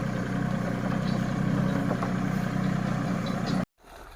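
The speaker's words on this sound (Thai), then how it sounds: "ก็มา รถไถนะครับ ติดหัวลาก" A Thai walking tractor fitted with a trailer hitch runs steadily with a close, loud, even engine rumble for several seconds before the sound cuts off abruptly.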